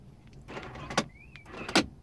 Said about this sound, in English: The car does have the remote key fob.